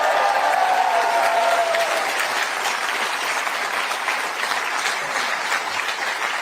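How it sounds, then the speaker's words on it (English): Sustained applause from a crowd at a political youth rally on a Toronto university campus, loud and steady throughout, fading slightly toward the end. "Give her a big round of applause."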